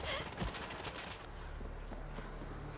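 Gunfire in the World War Z video game, a quiet burst of distant shots followed by scattered faint cracks under low background game noise.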